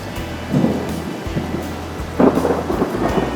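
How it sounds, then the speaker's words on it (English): Steady summer rain with rolling thunder on the Greek island of Nisyros, a continuous loud downpour swelling with deep rumbles and a heavier burst partway through. "And unfortunately it's raining and they've had to cancel it"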